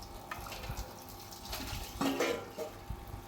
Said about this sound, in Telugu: ఆ నీళ్ళు కూడా పంపేసి మళ్ళీ కడుగుతాను